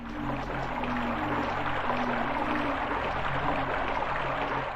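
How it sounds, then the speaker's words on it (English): Rushing water flows under a floor grating in the Overblood video game, a steady, dense wash of noise with a low hum underneath, constant throughout with no talking. "Seems like the sounds of rushing water are coming from somewhere"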